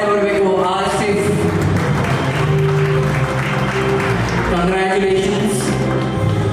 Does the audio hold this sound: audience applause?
yes